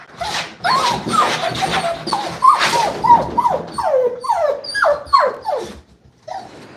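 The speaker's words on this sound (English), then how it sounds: "If you give in when they're crying, then you will just encourage that demand barking." A puppy whines and yips repeatedly, high-pitched cries rising and falling in quick succession, close and insistent with brief pauses.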